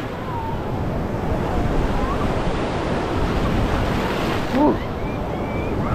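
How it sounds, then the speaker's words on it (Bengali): Big ocean waves break and surge on Puri beach in a steady, loud roar of surf with wind buffeting the microphone. "কত বড় বড় ঢেউ, কালকে এত দূর ঢেউ এত বড় বড় আসছিল না, আজকে কি বড় বড় ঢেউ।"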